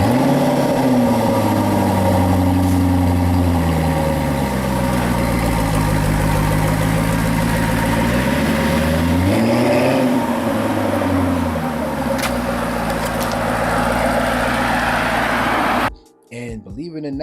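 A Jaguar car engine idles with a deep, steady rumble and rises in a short rev swell midway, loud and close, with a voice talking over it before it cuts off abruptly.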